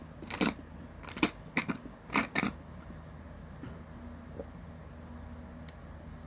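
Crunchy snack bitten and chewed close to the mic, a handful of crisp crunches in short bursts followed by quieter background.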